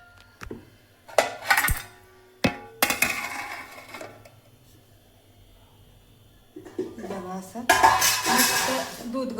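Metal cookware clatters and clanks in sharp bursts, a wok set down on the stove for an eggplant-potato curry with pans knocking nearby, then a longer run of rattling near the end.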